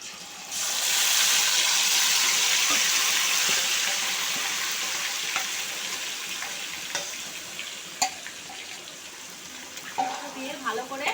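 Chicken frying in a pan with cinnamon, cloves and bay leaf for narkeli chicken korma, a loud sizzle that slowly fades, broken by stirring clinks and scrapes, no speech.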